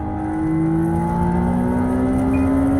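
A McLaren Artura sports car engine holds a steady high-revving whine above 8000 rpm with rising harmonic tones, loud and continuous throughout.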